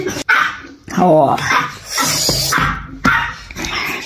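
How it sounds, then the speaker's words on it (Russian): Dog barking indoors in a home, a few loud sharp barks close by, with someone speaking briefly between them. "Чего гавкаешь?"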